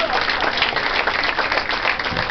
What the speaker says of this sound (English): Give a big round of applause for Phil Pointer.